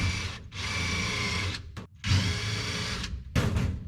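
A power drill drives self-tapping screws into the rusted floor of a 1961 Mercedes, loud close whirring bursts in three runs separated by short pauses.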